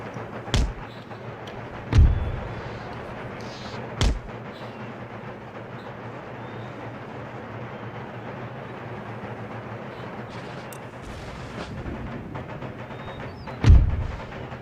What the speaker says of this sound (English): It seems to be that we're very, very close to being hit by his mortar.